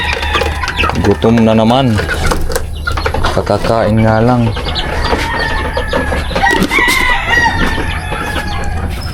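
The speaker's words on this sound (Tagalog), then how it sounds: "yung mga alaga kong manok" Pet chickens on a backyard farm clucking and crowing up close, with rising, wavering calls and busy background clucking, while a person talks over them.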